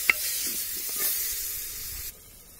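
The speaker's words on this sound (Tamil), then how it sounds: "இதோட பச்சை வாசனை போகிற வரைக்கும் நல்லா நம்ம வதக்கலாம்." Ground herb juice sizzles as it is sautéed in a pan for a village herbal rasam, a bright hissing crackle with a sharp pop at the start, steady and close, then dropping abruptly to a quieter hiss near the end.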